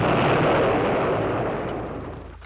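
A heavy, rumbling explosion from bombs striking a wartime RAF airfield, loud and broad, fading steadily over a couple of seconds with no voices.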